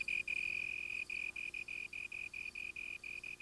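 A male slender tree cricket trills steadily and fairly loudly on a single high pitch, broken into regular rapid pulses with brief gaps, and no other sound around it.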